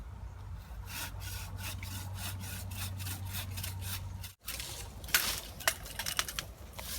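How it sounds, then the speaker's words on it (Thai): A hand saw cuts through a large branch of a wild pak wan tree in a quick run of about a dozen even back-and-forth strokes, then a brief pause followed by rougher, scattered scraping and rubbing of wood. "แต่ถ้าเป็นกิ่งใหญ่แบบนี้ พี่น้องให้ใช้ ให้ใช้เลื่อยนะครับ เลื่อยเลยครับ"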